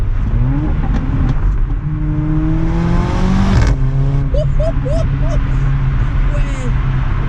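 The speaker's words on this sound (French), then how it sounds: "justement pour entendre un peu le son de la voiture" A Mercedes GLA 45 AMG engine revs hard and climbs through gears, punctuated by a sharp crack before the revs rise again.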